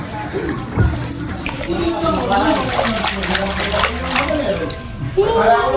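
Water splashes steadily and close by as a young child swims, a continuous wash of sloshing that runs through the whole stretch, with voices talking over it.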